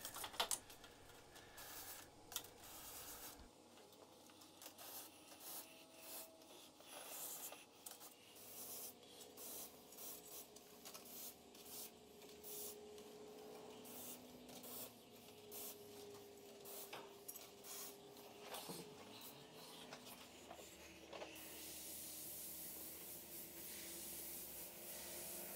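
An airbrush hisses paint over a skull template, a quiet close-up spray broken into short bursts with soft rubbing and scraping as the template is lifted and laid flat.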